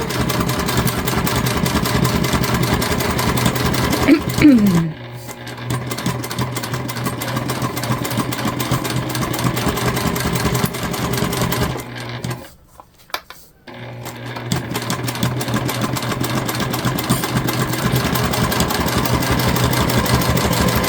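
A sewing machine runs a fast, even stitch while basting a 1/8-inch seam on a cross-body bag panel. The loud, close hum pauses twice with short gaps, the second one longer, and no one talks.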